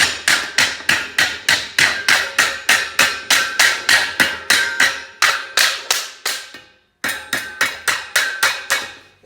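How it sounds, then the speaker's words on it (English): A saw-faced hammer pounds sheet metal in a steady, rapid series of sharp ringing strikes, close and loud, pausing briefly before a few more blows. "take a saw-faced hammer like this"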